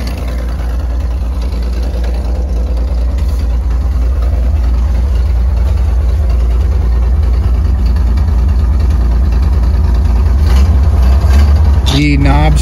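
A 1931 Chevrolet Independence five-window coupe idles steadily up close, its low engine rumble continuous throughout, with a short burst of other noise near the end.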